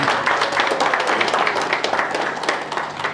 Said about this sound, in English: Round of applause for Your Excellency.